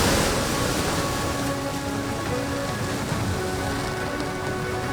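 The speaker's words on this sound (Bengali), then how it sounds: "এখনো পর্যন্ত বৃষ্টি হচ্ছে, সেটা দেখেই বোঝা যাচ্ছে।" Rain pours steadily during a spell of widespread stormy weather, a dense, continuous hiss of drops striking surfaces, loud and unbroken from start to finish with no voices.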